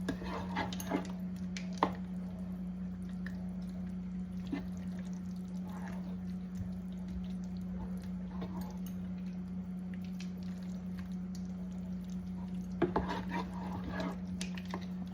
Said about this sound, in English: Just give it a good stir for a couple of minutes, just to break up all that pasta